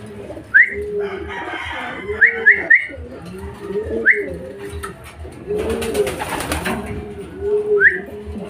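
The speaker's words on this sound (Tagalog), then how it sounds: "Ang mga pauwi natin, mga kalapatids." Homing pigeons arriving at a loft after club training coo repeatedly in a low, rolling rhythm, with a brief flutter of wings and a few sharp chirps from other birds nearby.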